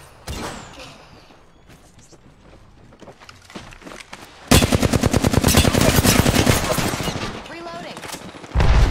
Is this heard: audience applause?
no